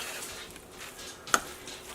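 Onions cooking in a pot for a thick-to-thin chili, with a soft continuous sizzle and two sharp scraping clinks from a stirring utensil near the end.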